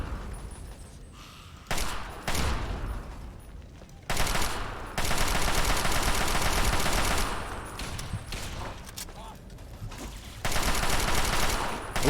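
Gunfire in the post-apocalyptic game Fallout 3, loud bursts of rapid automatic shots in several long stretches separated by brief quieter gaps.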